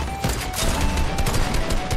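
Dense gunfire from an online shooter match, heavy overlapping shots and bursts running almost continuously for two seconds, loud and close with no lull.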